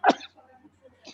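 A single sharp sneeze bursts out close by, followed by faint, quiet rustling.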